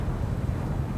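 Spaceship engines in Star Citizen keep running as a low, even rumble with a windy, hollow texture, steady and fairly quiet.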